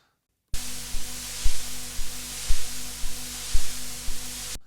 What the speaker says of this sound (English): You can also hear a background hum on the Juno.